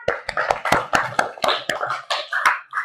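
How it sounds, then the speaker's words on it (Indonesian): A small group at a Christian church gathering claps hands together, a close, irregular run of sharp claps spread evenly across the moment with no talk. "tepuk tangan dulu semuanya"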